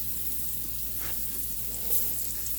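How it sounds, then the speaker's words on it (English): Steady, close sizzling and crackling of food frying in a hot pan, a continuous hiss with an occasional stir. "Because I'm pan frying, so you have to watch them."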